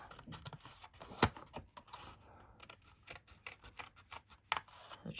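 Scissors snipping through paper to cut out a leaf shape for a handmade card, a quiet close run of irregular crisp snips and clicks with a couple of sharper louder cuts, no talk.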